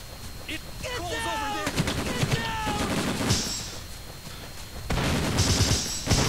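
Heavy .50 caliber machine gun fire in the video game Breakdown, with loud bursts of rapid automatic shots and booming reports, mixed with other game effects and brief muffled voices.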